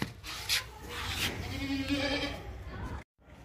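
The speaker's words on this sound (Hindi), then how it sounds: "लंबी बकरी है, ऊंची बकरी है, खूबसूरत बकरी है।" A tall, pregnant dairy goat bleats loudly from close by in a few wavering calls. Someone talks over the calls, and a short silence comes near the end.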